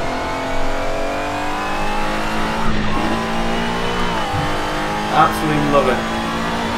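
An Alfa Romeo 155 V6 Ti rally car in the Assetto Corsa Rally video game revs its V6 engine with rising pitch and a quick gear change; someone talks over the engine throughout.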